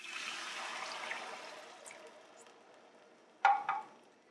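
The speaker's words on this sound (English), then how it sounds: "we want to add in 2 cups of water" Water poured into a pot of oil-coated rice and herbs, a faint rushing pour that fades out, then a brief louder splash and trickle near the end.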